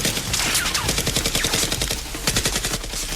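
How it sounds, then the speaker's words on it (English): Nerf guns fire in rapid bursts during a mock police SWAT shootout against robbers, a dense stream of quick clicking shots, fairly close and continuous with no talk. "Dr. Lee and the remaining robbers team up to shoot at the SWAT members"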